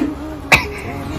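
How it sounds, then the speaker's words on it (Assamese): A single short, sharp cough after eating dried fish, close and loud, rising briefly over quiet indoor room tone. "কিনো শুকান মাছ দিছে কাহ আহি গৈছে গোটেই"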